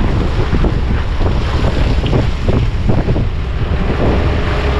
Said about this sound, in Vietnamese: Rồi ghe cũng tới điểm thứ hai của chú anh chị nè